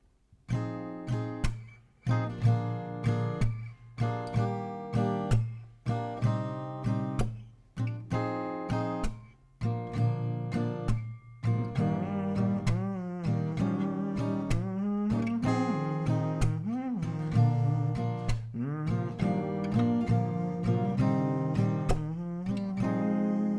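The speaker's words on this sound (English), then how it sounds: "that's the strumming pattern, and that is down, down, clap, down" An acoustic guitar strummed close and loud, first in spaced single downstrokes, then in a busier continuous rhythm of chords.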